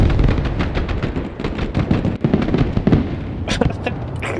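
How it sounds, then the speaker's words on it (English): Grenade launchers firing in the war game Broken Arrow, a rapid, irregular string of sharp pops and thuds mixed with distant blasts, loud and continuous, with a couple of brighter cracks near the end. "The grenade launchers are going crazy."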